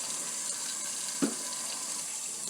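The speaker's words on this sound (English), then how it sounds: "I'll run a little bit of hot water first" Hot water running from a tap into a sink while synthetic wigs are being washed, a steady soft hiss of flow with a small splash midway, close and even.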